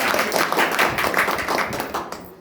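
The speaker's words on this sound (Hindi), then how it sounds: "एक बार जोरदार ताली होनी चाहिए" An audience claps together in a steady, moderately loud burst at a marketing seminar, sustained for a couple of seconds before thinning out.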